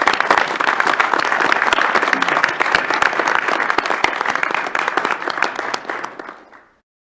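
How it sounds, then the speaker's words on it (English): Audience applause at a UW System Board of Regents meeting: loud, steady clapping from a seated crowd that holds for about six seconds, then tapers quickly and ends in silence. "Let's give Mark a round of applause."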